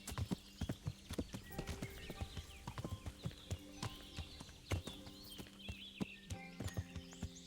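A horse ridden at a walk in the medieval game Kingdom Come: Deliverance clip-clops with steady, even hoofbeats on a hard path, close and clear, with faint ambient sounds beneath and no talk.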